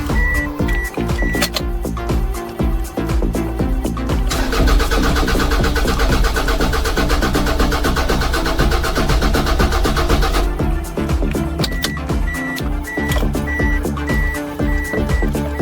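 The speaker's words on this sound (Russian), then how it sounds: "Будем пробовать запускать еще машину." Starter cranks a Toyota Estima engine that won't start, a steady loud churning drone lasting around fifteen seconds without catching, with a brief quieter gap near the start and end.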